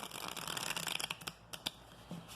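A tarot card deck being shuffled close up, quiet rapid riffling bursts that break into a few separate flicks and taps.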